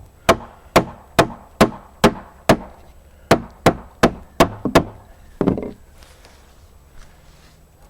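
Rubber mallet knocking a wooden well board down into a workbench, about a dozen sharp, evenly spaced taps up close, the last few quicker and clustered, then a softer thump and quiet shuffling.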